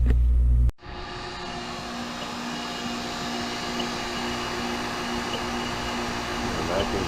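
A vacuum pump evacuating a geothermal HVAC unit starts with an abrupt jolt, then settles into a steady, loud mechanical drone. The motor runs evenly for around six seconds with no noticeable change.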